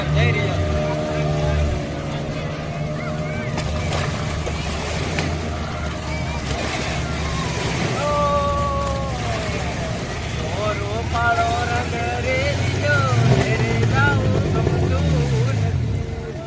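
Motorboat ride toward Shivrajpur beach, the engine drone steady and loud throughout with water wash beneath and people talking over it.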